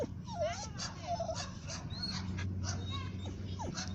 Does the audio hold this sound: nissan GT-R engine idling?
no